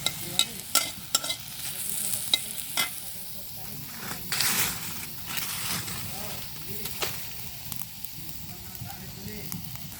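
Whole cumin seeds crackle and sizzle in hot oil in a pan, with dense popping at first settling into a steady fry; a voice speaks faintly over it.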